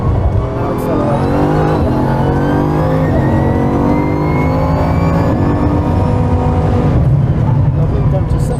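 A car accelerates hard on a driving track. The engine note climbs steadily and loudly under continuous road and wind roar, with voices talking over it.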